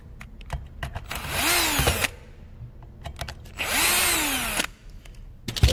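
Electric screwdriver backing out a Torx T20 screw from a STIHL FS 460 C brushcutter, two short whining bursts with a falling pitch, surrounded by light clicks and handling taps.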